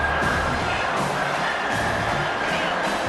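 Stadium crowd in the NCAA 25 football video game, Oregon vs South Carolina, roaring for the defense on a third down. A steady, loud, dense roar that fills the whole stretch without letup.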